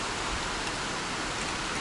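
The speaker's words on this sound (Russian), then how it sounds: "Вот такой вот дождь." Heavy rain pours steadily outside on a summer day, a dense, even hiss of water close by with no break and no voices.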